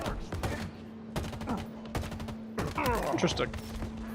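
Halo Infinite gunfire: a few sharp, spaced shots mixed with a steady game tone and other match effects, and a voice briefly speaking partway through.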